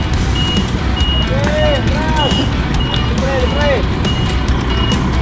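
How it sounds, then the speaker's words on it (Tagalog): A truck reverses off a ship's ramp with a repeating electronic reversing beep over a steady loud engine and crowd noise, and people talk throughout. "Lalabas yung truck."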